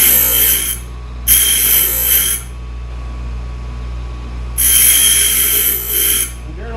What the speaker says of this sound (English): this diamond tool, to dress this grinding wheel true